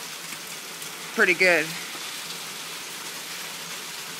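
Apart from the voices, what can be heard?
hail falling outside during storm in Oklahoma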